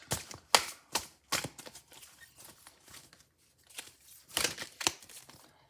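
Tarot cards are shuffled by hand in a series of quick, crisp riffling and slapping bursts, close and irregular, with brief pauses between the handfuls.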